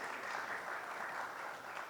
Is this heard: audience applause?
yes